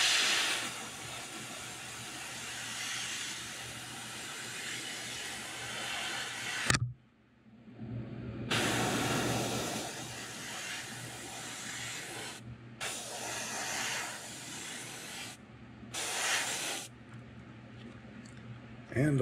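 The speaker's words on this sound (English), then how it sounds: "we're going to angle spray our black." A spray gun hisses as black paint is angle-sprayed over blue on a custom-painted shad fishing lure, steady bursts of airy spraying that start and stop several times, close and fairly quiet.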